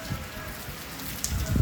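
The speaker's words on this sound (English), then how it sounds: "Bro, soaked in the rain." Heavy rain during Hurricane Helene in Florida, a dense steady hiss of drops pattering on surfaces, close and continuous over a short stretch with a faint voice underneath.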